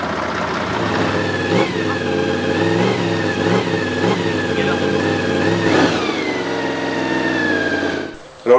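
A motorcycle engine revs close by, its pitch rising and falling through several throttle blips over a steady idle before it cuts off abruptly, with no one speaking.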